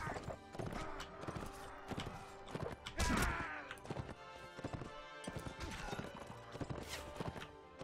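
In the video game Mount & Blade: Warband, rapid horse hoofbeats clatter alongside sharp metallic clashes and impacts as the horse is struck, a busy mix of galloping and combat hits at moderate volume.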